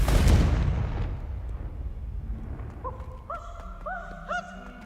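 A loud explosive blast from the Confringo spell in the video game Hogwarts Legacy booms up front, then rumbles away, leaving quiet game ambience with soft bird-like hoots and chirps.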